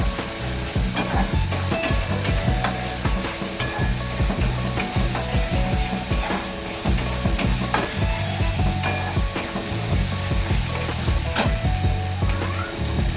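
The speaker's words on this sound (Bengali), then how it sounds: "ফ্লেমটা একটু বাড়িয়ে নেবেন, ভালোভাবে কষাতে হবে।" Palak paneer masala stir-fried in a pan over a raised flame: loud, steady sizzling broken by rhythmic scraping stirs, close and continuous throughout with no talk.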